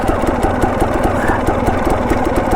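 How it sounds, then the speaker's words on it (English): A two-stroke Husqvarna dirt bike engine runs steadily on a winter trail ride in Idaho, a loud, close, buzzing rattle with a fast pulsing rhythm throughout. "this two-stroke Husky has been a great bike."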